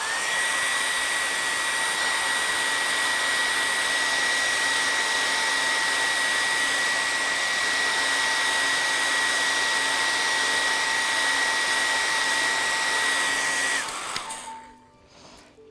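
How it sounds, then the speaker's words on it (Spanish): A hair dryer blows steadily on thick dots of paint on a recycled vintage craft piece, a loud, even whine with a constant high tone for about fourteen seconds before it switches off and winds down. "le voy a dar un poquitito más de secador, simplemente por esos puntos que son más gruesos"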